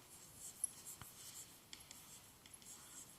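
Chalk or marker writes on a board during a physics lesson, with faint, steady scratchy strokes and a few light taps, quiet and close, without any talk.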